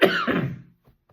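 A single harsh cough up close, followed by a brief pause and a couple of faint throat sounds.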